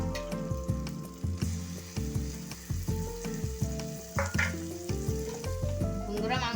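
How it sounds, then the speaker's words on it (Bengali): Chicken for Punjabi chicken frying in hot oil, a steady sizzle broken by rhythmic clanks of a spoon stirring the pan, with faint music in the background. "এরপর আমি মাংসটা দিয়ে দিচ্ছি ভেজে নেবো"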